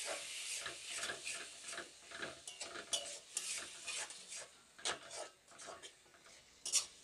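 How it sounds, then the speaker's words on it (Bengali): Tomato paste being sautéed with onions and spices for a village-style rohu-in-poppy-seed curry, with soft, repeated scraping stirs in a pan and a faint sizzle, fairly quiet and close. "ভালো করে মশলার সঙ্গে কষিয়ে নেব পেঁয়াজ"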